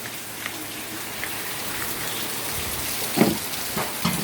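Steady rain falls outside a small grocery shop on an afternoon, a continuous hiss with scattered louder drips and splashes close by, no voices.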